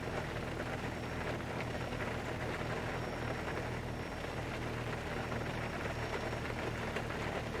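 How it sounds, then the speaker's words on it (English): Rain patters against the cockpit window of a simulated Boeing 757 airliner in X-Plane 11, a faint, even hiss of drops with a low steady hum beneath and no talking. "all we really hear right now is the rain hitting the window"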